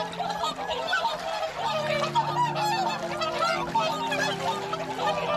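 Whooper swans give loud, repeated honking, trumpeting calls that overlap in a steady chorus over a full, busy background.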